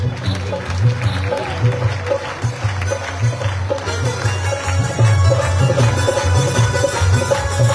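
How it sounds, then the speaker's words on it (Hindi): Loud applause from the crowd at a devotional sankirtan, a steady wash of clapping over a rhythmic low drum-like beat and background voices, sustained across the whole stretch. "एक बार जोरदार ताली बजे"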